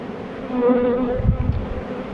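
Honey bees buzz steadily around an opened eight-frame hive, a close, continuous drone filling the whole moment with no voices.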